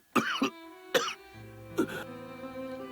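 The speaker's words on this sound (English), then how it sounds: "Professor Fumino suddenly starts coughing." A female professor character in the video game Root Letter coughs in three harsh, close bursts, the last one raspier, over a soft sustained musical backdrop.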